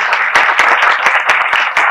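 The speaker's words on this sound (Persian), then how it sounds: "لطفاً خودتون تشویق کنید" Audience at a lecture on Neanderthals in Iran applauds loudly, a dense, even clatter of many hands clapping, close and sustained with no talk over it.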